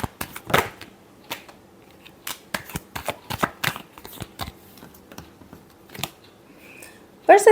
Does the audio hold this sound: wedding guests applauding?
no